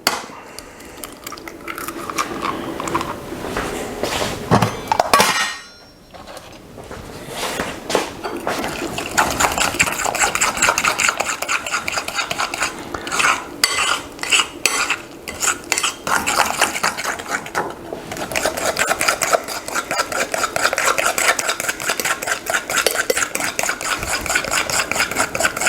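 A spoon works through honey and apple pudding batter in a bowl, giving a continuous wet scraping and clinking, fairly loud and close, with a brief pause near the start.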